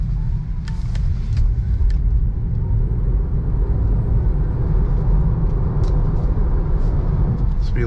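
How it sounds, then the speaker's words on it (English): Heard from inside a 2022 Tesla Model 3 electric car accelerating up to 50 mph on a gravelly street, steady low road rumble and tire noise with occasional faint higher clicks. "Accelerate up to 50 again."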